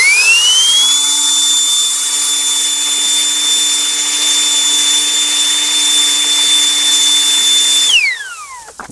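An OGERY cordless handheld leaf blower runs at a loud, steady high whine as it blows small stones out of a gutter, its pitch rising at startup and falling away as it shuts off near the end.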